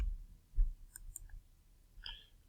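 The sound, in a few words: computer mouse right-clicking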